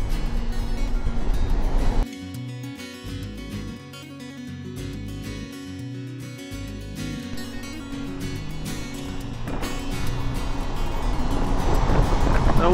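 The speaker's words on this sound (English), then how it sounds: "The winds are blowing about 30 knots, gusting to about 40." Strong gusting wind of about 30 to 40 knots with rough waves around a Holland America cruise ship in light rain, a loud, continuous broadband roar and rumble that dips for a stretch, then swells again toward the end.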